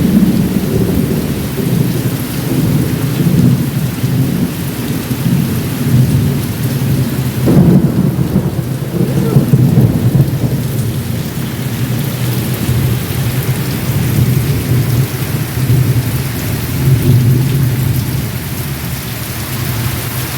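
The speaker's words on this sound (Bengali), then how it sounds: "ভীষণ জায়গায় বৃষ্টি হচ্ছে এখন।" Heavy rain pours steadily without a break while thunder rumbles low through the whole stretch, swelling into a louder roll about midway; no voices are heard.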